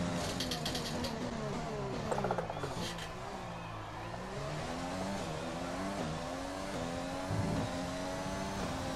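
An F1 2020 race car in a video game at the Canada track accelerates at full throttle, its engine whine climbing through repeated gear-change sweeps, steady and fairly quiet, with no talking.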